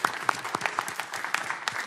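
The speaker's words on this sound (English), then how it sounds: "let's give him a round of applause" Sparse, faint clapping from a small group at a council meeting, individual claps distinct and irregular, heard from a little distance.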